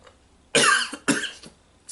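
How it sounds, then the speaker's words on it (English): Two harsh dry coughs in quick succession from a person with a dry throat, close and fairly loud, followed by a faint breath and the start of another. "Sorry if I coughed there."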